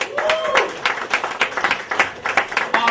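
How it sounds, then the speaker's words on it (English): A comedy club audience applauds a comedian, a close burst of lively clapping and a few cheers that rises and ebbs over a few seconds. "Put your hands together for Keith."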